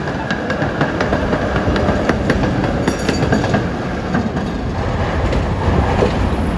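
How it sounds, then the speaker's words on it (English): A vintage PCC streetcar in Cincinnati Railway paint rolls past on Market Street in San Francisco, a loud close rumble with rhythmic wheel clicks over rail joints and a steady mechanical drone throughout. "a Cincinnati Railway painted PCC goes by."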